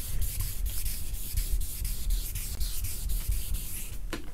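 Car clear coat scuffed and smoothed by hand, close rhythmic sanding strokes rubbing back and forth at a steady pace.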